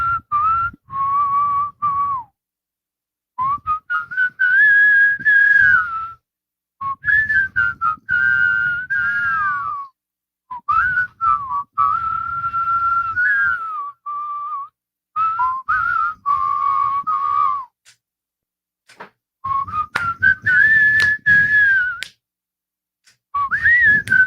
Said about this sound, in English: You're going to mime whistle